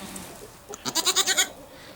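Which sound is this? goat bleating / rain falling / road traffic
goat bleating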